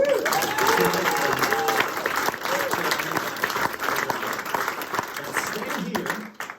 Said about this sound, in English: take it off to a thunderous round of applause